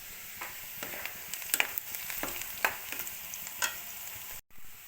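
Cabbage fries in a pan with a low, steady sizzle, punctuated by intermittent stirring scrapes and taps, quiet overall with a brief dropout near the end.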